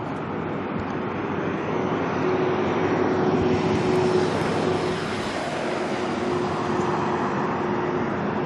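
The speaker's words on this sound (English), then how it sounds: "Hang on, it's that little ATR that's just come in." Small ATR turboprop airliner at Auckland Airport, a sustained engine rumble with a steady tonal hum, rising slightly then holding at moderate distance, with no voices.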